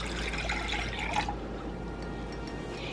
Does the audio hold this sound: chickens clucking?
no